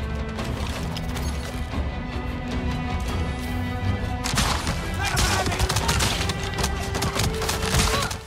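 Short bow in Avatar: Frontiers of Pandora loosing arrows in rapid fire, a dense burst of quick sharp twangs and impacts over steady game music and ambience, intensifying in the second half.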